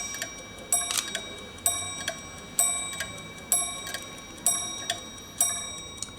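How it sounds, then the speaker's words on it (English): A watch strikes the hour with a small hammer on a gong in the style of a church clock, giving seven bright metallic chimes at a steady, even pace, each one ringing out close and clear over quiet room tone. "meaning that at every hour, if it's 11 o'clock, it will ring 11 times"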